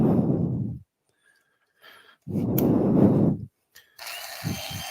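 Power carver shaping wood with a 60 grit abrasive: two loud, gritty grinding bursts separated by silence, then a brief scrape and a steadier hiss with a couple of low knocks.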